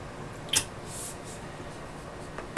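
Someone takes small sips of water close to the microphone: a couple of brief, soft, wet slurps separated by quiet.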